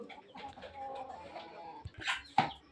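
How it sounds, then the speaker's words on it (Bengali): Chickens cluck softly at night near their coop, a few quiet clucks and rustles at close range followed by sharper bursts near the end. "তো এই হচ্ছে আমার মুরগিগুলা।"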